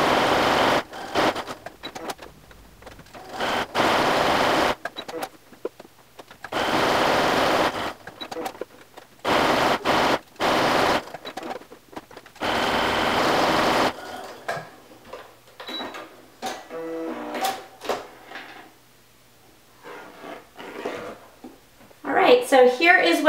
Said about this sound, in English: I'm just going to sew on the dark blue lines